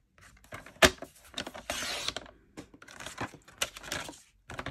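A paper trimmer slices Sweet Sorbet cardstock down to 5.5 inches, with a close scraping swish of the blade among soft taps and handling rustles.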